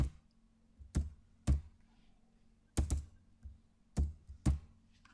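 Keys on a computer keyboard being typed while entering a chemical formula, six or so sharp separate clicks in an irregular rhythm, close and clear, with quiet gaps between them.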